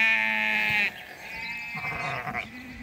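Six- to seven-month-old lambs from a flock of 22 bleat nearby, one long clear bleat followed by a shorter, wavering second call, loud and close with faint background noise.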